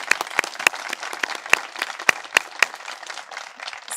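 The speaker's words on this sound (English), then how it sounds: "If we can give them a quick round of applause as well" Applause for staff at a search-dog team pairing ceremony: a smaller audience clapping at a moderate pace, several crisp, loud individual claps cutting through a looser patter of hands over four seconds.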